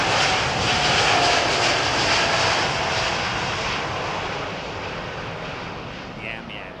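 Airliner from Australia landing on runway 27R at Heathrow, a steady jet engine roar that slowly fades as it passes, with faint talk.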